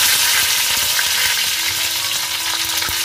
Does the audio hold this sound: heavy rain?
no